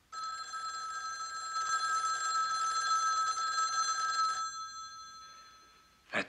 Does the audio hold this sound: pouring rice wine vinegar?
no